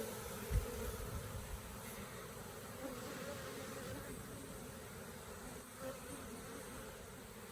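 Honeybees from a large colony being cut out of a 175-year-old plantation home, a dense continuous buzzing drone with a faint thump near the start and no talking.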